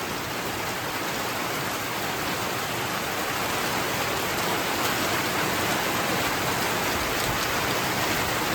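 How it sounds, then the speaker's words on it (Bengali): Heavy monsoon rain pounds steadily on a tin roof, a dense, unbroken hiss and patter at even loudness throughout, with no voices. "টিনের চালে বৃষ্টির শব্দ ভালোই লাগে, খারাপ লাগে না।"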